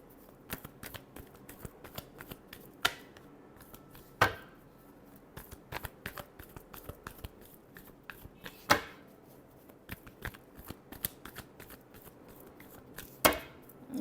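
Tarot cards are shuffled by hand in a quiet room, with soft rapid riffling and slaps punctuated by a few sharper snaps as the deck is squared, close and fairly faint.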